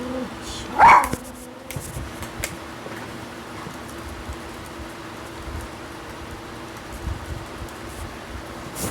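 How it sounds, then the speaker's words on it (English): A dog barks once, close and fairly loud, near the start, then only a low steady hum from a fan or electronics continues, with no more barking. "what you guys don't know is this barking"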